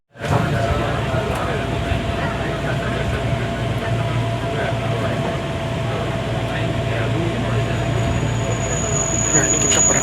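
A KRL commuter train pulls out of Tanah Abang station, heard from inside as a steady, loud rumble of wheels and carriage noise. A faint high whine rises near the end.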